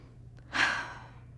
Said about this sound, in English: I'm going to take a few deep breaths and count slowly to 10